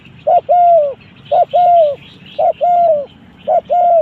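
A decoy dove calling during bird trapping, repeating a clear two-part coo, a short note then a longer one, four times in steady rhythm, loud and close with no voices.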